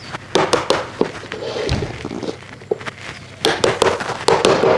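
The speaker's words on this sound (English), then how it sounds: "bang them in nicely with the mallet" A mallet knocks connectors into a Bamworld metal plant stand, a series of sharp, close taps in uneven bursts with short pauses between them.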